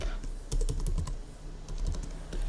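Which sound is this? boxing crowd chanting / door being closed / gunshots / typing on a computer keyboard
typing on a computer keyboard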